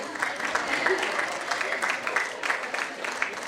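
An audience applauds at an alumni conference inauguration, honouring a principal, with a steady dense patter of clapping throughout, fairly close and sustained.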